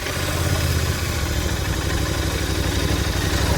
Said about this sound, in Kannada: so let start the bike